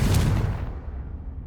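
A Confringo fire spell explodes in Hogwarts Legacy with a loud, sudden blast, followed by a rumbling tail that fades over about a second.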